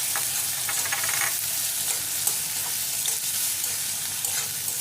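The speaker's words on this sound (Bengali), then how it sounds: "তো পেঁয়াজটা দিয়ে দেবো, তেলটা গরম হয়ে গেছে" Chopped onion frying in hot oil for an egg chop filling, a steady broadband sizzle with faint stirring clinks, constant and close throughout with no talk.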